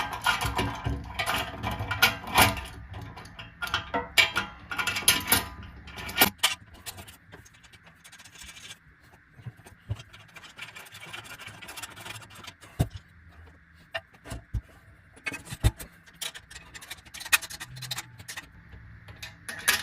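Metal wrench clicks and scrapes while a bolt is tightened during assembly of a VEVOR 4-color screen printing machine, with an irregular series of close, sharp taps and rattles followed by a quieter faint hum.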